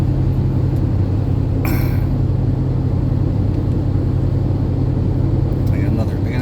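Snow plow truck pushing snow across a property lot, a loud steady low engine rumble and drone that carries on throughout, with a brief scraping burst partway through.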